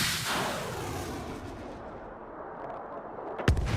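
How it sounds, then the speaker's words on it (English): A HIMARS rocket launcher fires, a loud booming blast that rolls away into a fading rumble, followed by a sharp second report near the end. "HIMARS unleashes its attack."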